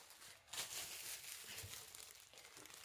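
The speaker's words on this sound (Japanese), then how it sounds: "粗熱が取れましたら、これをビニール袋に入れます。" A plastic bag crinkles and rustles up close as cooled boiled bamboo shoots are dropped into it, with a few sharper crackling bursts and no talking.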